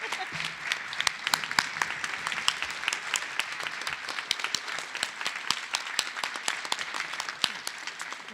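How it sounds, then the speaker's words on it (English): Sustained applause fills the room at a high school graduation ceremony, dense overlapping clapping from a large audience with sharp individual claps standing out close by. "give your families and everybody in the room a big round of applause"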